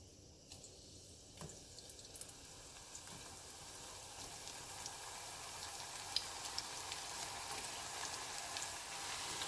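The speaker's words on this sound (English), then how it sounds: "You'll want to fry these for about 3 minutes" Homemade tortilla chips frying in oil heated to about 350°F give a steady, quiet rain-like crackle and sizzle that grows slightly denser over time, with no talking.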